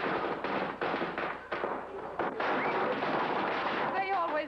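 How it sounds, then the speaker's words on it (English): Firecrackers are set off to welcome someone home, a dense, continuous crackle of rapid pops and bangs running the whole time. "They always light firecrackers when I come home."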